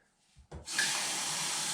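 Tap water runs into the tank of a portable water flosser, starting after a couple of small clunks and then pouring as a steady, close, loud rushing hiss.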